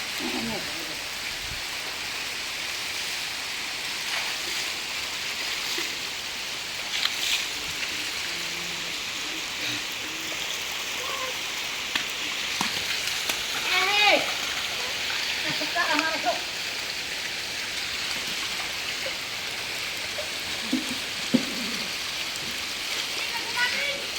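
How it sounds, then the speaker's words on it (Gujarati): Rain falls in a steady, even hiss, with scattered splashes and a few faint voices in the background. "ભરતભાઈને વરસાદના પાણી નાહવાની બહુ મજા આવી ગઈ છે"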